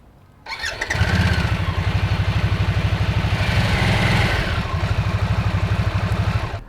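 A Harley-Davidson Nightster 975 motorcycle, a high-compression short-stroke engine, cranks and fires up loudly, then settles into a steady, rhythmic, pulsing idle close by.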